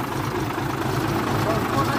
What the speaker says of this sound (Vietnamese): Máy nổ rất là êm nha.